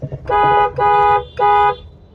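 A car horn honks three times in quick succession in busy market traffic, each blast loud and sustained for about half a second with short gaps.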